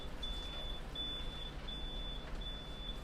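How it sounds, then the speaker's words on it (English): A phone beeps aboard a sailing catamaran offshore, four evenly spaced steady high tones over a low hum of background noise, fairly faint and with no voices. "I didn't recognize that beep."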